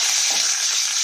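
Curry leaves and green chillies hit hot oil in a pan, giving a bright, loud, crackling sizzle that sputters unevenly through the brief moment, with no talking.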